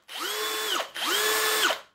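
A Bosch UniversalImpact 18V cordless impact drill whirs loudly in two close bursts, its pitch rising as the trigger is squeezed and falling as it is released, with no voices over it.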